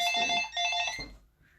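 A telephone rings indoors, two short trilling bursts of electronic ringing, fairly close and clear, before fading into quiet.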